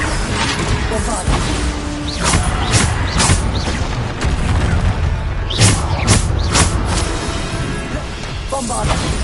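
Bombarda blasting spells in Hogwarts Legacy, repeated booming explosions and whooshing bursts over a constant loud wash of combat effects, several sharp impacts spread across the stretch, with voices in the mix.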